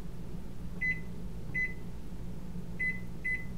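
A microwave oven gives four short electronic beeps as buttons are pressed to set the cooking time for potatoes, spaced irregularly over a low kitchen hum.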